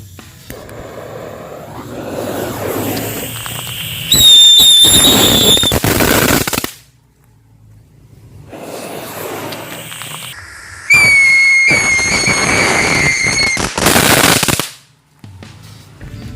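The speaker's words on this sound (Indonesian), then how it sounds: "Selanjutnya ini mercon tikus, kita eksperimenkan seperti apa hasilnya" Indonesian mercon tikus ground spinner firecrackers whistle with rising shrill tones and crackle loudly in two bursts, separated by a quieter pause with faint background noise.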